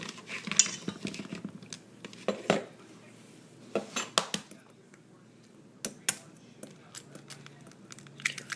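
Three eggs cracked into a bowl while making a pumpkin roll cake: scattered sharp taps and clinks of shell against the bowl rim, spread out over several seconds, fairly quiet with light kitchen handling noise between.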